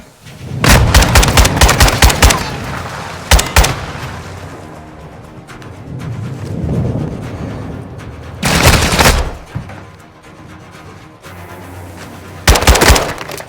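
Modern Warfare II firefight aboard a ship, with loud bursts of automatic gunfire in several clusters separated by quieter stretches of rumbling combat noise.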